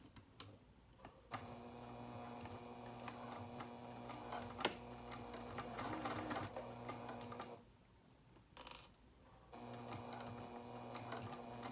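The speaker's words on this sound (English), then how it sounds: "And now we will be sewing it in place, just basting it in place." A domestic sewing machine basting fabric pieces of a coin purse card holder in place at an eighth-inch seam allowance, a steady close mechanical whirr with brief pauses and restarts.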